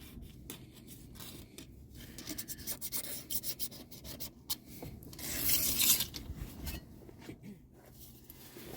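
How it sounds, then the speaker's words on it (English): A Scotch-Brite pad scrubs the deck surface of a cylinder head from a Dodge conversion van, quick, uneven bursts of scratchy rubbing with brief pauses, close up and fairly quiet, with a longer, louder stroke near the end. "I'll come back with some Scotch-Brite. Give it a final once-over."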